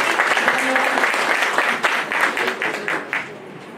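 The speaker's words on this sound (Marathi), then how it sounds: "एकदा जोरदार टाळ्या झाल्या पाहिजे उमेश सरांसाठी" A crowd at an anniversary and awards ceremony claps loudly and steadily for a few seconds, the applause thinning toward the end, with some voices mixed in.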